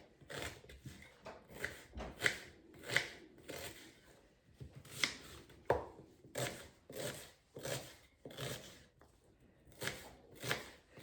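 Onions chopped small with a knife, a run of irregular close cuts and scrapes on a board, each stroke distinct with short pauses, nobody talking.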